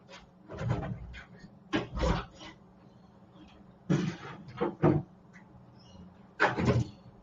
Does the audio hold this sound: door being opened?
yes